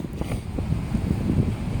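Wind buffets a microphone outdoors on a gusty day, a continuous low rumbling roar for under two seconds, with no other clear sounds.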